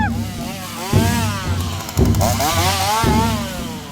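A chainsaw runs during a Halloween scare, its buzzing engine close and loud, revving up sharply twice in quick bursts and holding a steady snarl in between.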